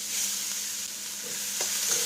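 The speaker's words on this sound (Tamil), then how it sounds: "கேரட் நல்லா நெய்யிலே வதங்கணும்." Grated red Delhi carrot frying in ghee in a kadai, a steady soft sizzle with faint stirring scrapes, close and quiet with no voices.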